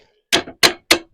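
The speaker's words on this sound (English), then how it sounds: "I really shouldn't be using a hammer on those dogs because it does bend them a little bit." A hammer strikes steel log dogs clamping a log on a Hud-Son Oscar 18 sawmill at an off-grid cabin site. Four sharp, loud metallic blows land close by in a steady rhythm with no talk.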